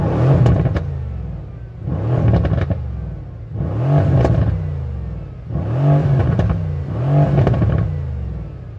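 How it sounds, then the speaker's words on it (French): A Mercedes-AMG C63 S Coupe V8 in Sport Plus mode revs hard five times in a regular rhythm. Each loud, close blip crackles as it drops back to idle, with no voices. "je la mets en sport plus. Et là, tout de suite, on sent que le moteur est plus méchant"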